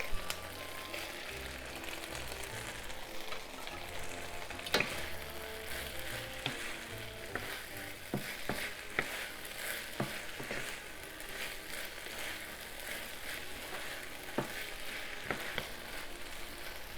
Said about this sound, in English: Then add the minced leek.